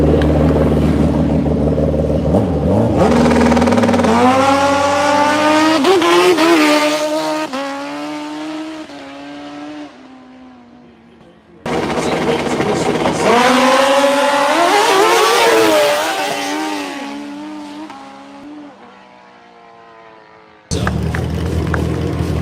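Two drag-racing motorcycle runs on a strip, each a loud, close engine howl climbing rapidly through the gears with rising pitch, then fading into the distance, with a brief gap and another bike starting at the end.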